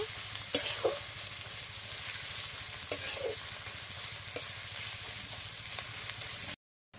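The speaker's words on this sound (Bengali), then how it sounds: "সর্ষের তেল দিয়ে পেঁয়াজটাকে ভালো করে ভেজে নেব।" Onion fries in mustard oil in a pan with a constant crackling sizzle, and scattered clicks and scrapes of stirring punctuate it. The sound cuts to silence just before the end.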